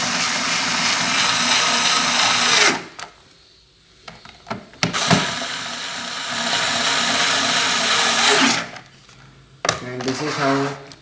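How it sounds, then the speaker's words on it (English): Electric screwdriver whirring in bursts while tightening screws on a rechargeable 20-LED light, close and fairly loud, with brief pauses and small clicks between runs. "And now I am just tightening the screws."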